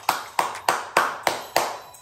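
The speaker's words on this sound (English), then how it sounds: "Yeah, I'm clapping for nothing." Six sharp hand claps in a slow, even rhythm, close and fairly loud, each with a brief ringing decay in a room, with no talking over them.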